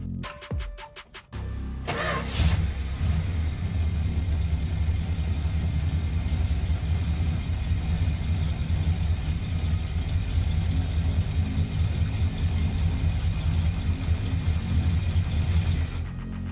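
A 1967 Dodge Dart V8 with a newly converted four-barrel carburetor starts after a few brief clicks and turns over, then settles into a loud, steady, close-up idle rumble that holds unchanged to the end.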